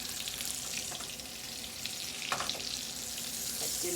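Steak frying in butter in a hot pan, a dense continuous sizzle and crackle close up, with occasional spatters and light clinks of a utensil.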